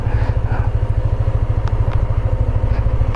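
A motorcycle engine thrums steadily at close range with a regular low pulsing beat, ridden along a flood control project site, with faint clatter over the top.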